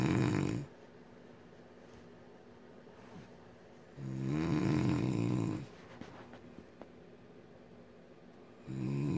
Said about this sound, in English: lately her snoring is getting louder and louder